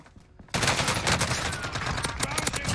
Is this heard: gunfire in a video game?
yes